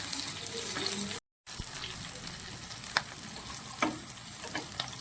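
Curry leaves, garlic, ginger and green chili roasting in an oily pan, giving a steady close sizzle and hiss with a few brief stirring clicks and a short cut of silence.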